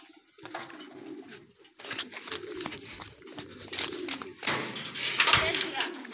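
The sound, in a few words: racing pigeons cooing at loft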